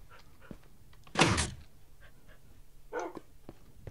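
A dog in Minecraft gives one loud, close bark-like burst, then a softer second sound a moment later, over a quiet hum.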